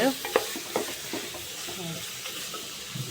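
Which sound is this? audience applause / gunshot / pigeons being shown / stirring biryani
stirring biryani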